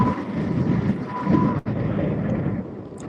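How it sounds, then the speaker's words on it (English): Strong wind gusts buffet the microphone on a lake while fishing from a boat, a loud, continuous low rumble that swells and briefly drops out, with no voices. "Getting some pretty big gust."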